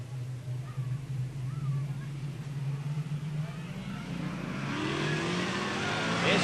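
A race car pulls away at the start of a test match race, its engine note climbing and growing louder toward the end over a steady low hum, with a commentator's voice in the mix.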